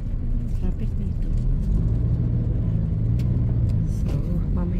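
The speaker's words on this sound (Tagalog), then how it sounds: "Traffic dito." Steady road traffic rumble on a street in Thailand, with cars and buses passing close by in a continuous low drone, occasional engine revs, and faint voices mixed in.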